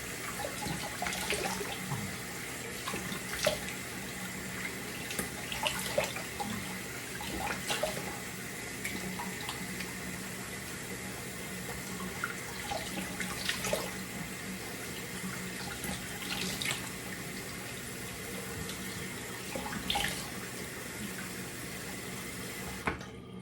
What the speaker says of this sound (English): Now I do a cold water rinse.